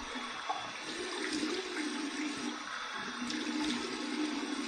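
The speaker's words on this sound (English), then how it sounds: "That's cold water going now." Cold water runs from a tap for a rinse after a head shave, a steady splashing flow that carries on without a break. It is fairly quiet, and no voices are heard.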